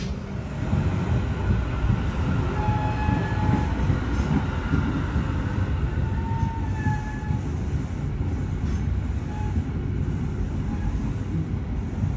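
Steady low rumble of the Bogowonto passenger train running along the rails, heard from inside a carriage, continuous and fairly loud, with faint squeals and tonal hums drifting through.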